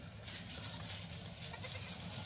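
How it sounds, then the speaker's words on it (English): Dairy goats in a farm pen, two does in milk, make soft, faint bleating calls over a steady low rumble of background noise. "we have two goats, two does in milk."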